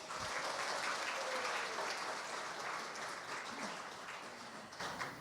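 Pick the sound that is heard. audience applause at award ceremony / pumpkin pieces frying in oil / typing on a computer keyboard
audience applause at award ceremony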